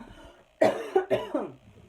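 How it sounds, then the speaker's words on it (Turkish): A few harsh coughs close up, two or three bursts in quick succession after a brief quiet moment. "Öksüreceğim."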